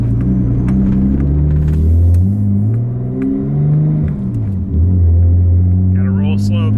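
A 1991 Nissan flagship luxury car rolls slowly down a neighborhood street, its engine a steady low rumble with gentle swells of light throttle, loud and close from inside the cabin throughout.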